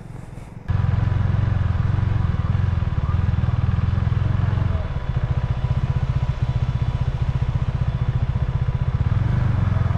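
A motorcycle engine runs loud and close, starting abruptly and holding a steady throbbing rumble, dipping briefly as the throttle changes, during a beginner riding game of stop and go.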